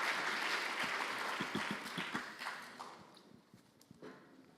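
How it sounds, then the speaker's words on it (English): A conference audience applauds at the Stanford Blockchain Conference 2019, a dense wash of clapping from a full room that gradually thins and fades away. "Big round of applause, everyone."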